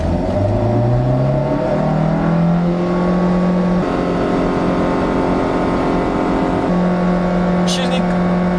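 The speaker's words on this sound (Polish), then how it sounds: "po puszczeniu hamulca silnik się odpala, auto rusza. Dajemy gaz." Honda Insight hybrid car with its engine starting as the brake is released and then accelerating in Sport mode, a steady loud interior drone climbing in pitch and holding high revs throughout.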